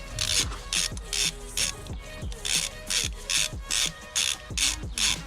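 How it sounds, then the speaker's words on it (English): A ratchet wrench loosening a spark plug from a car engine during a service clicks rapidly and loudly up close, in steady back-and-forth bursts of about ten strokes, with no talking. "Let's get this first one spark plug out then."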